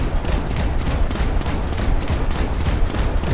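In a naval video game, ship guns fire rapid overlapping bursts at targets. The roar is loud and constant, with a quick repeating pulse running through it.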